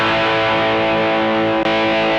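An electric guitar played through the distortion side of a TC Electronic Nova Drive pedal into a dirty amp channel rings out as a loud, sustained chord, buzzing and thick, with a brief break near the end.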